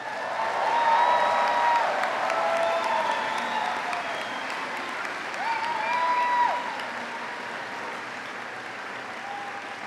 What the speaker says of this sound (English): Can we give the class of 2025 one more round of applause?